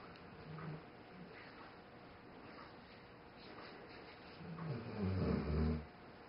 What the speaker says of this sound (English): Don't mind the dog snoring.